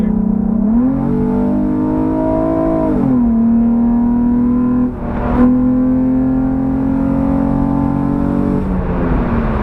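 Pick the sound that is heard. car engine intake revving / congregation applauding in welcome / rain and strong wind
car engine intake revving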